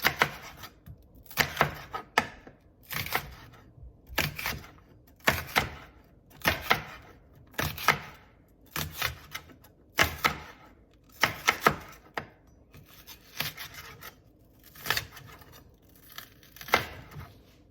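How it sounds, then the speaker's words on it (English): Knife chopping a purple onion on a board, a steady series of sharp, close cuts in quick bursts with short pauses, about a dozen strokes, no talking. "I'm going to go ahead and cut this purple onion right here."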